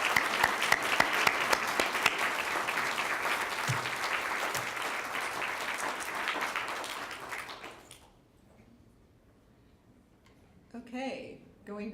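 A large audience at a teaching awards ceremony applauds the honorees, sustained and even clapping for about eight seconds that fades out, then a voice starts speaking near the end.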